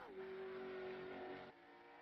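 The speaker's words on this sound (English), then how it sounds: "there is Chris Reese heading out onto the racetrack" A bright green late model race car in the iRacing sim heads onto the New Smyrna track, its engine holding a steady near drone that rises slightly before easing off, then continuing lower and quieter.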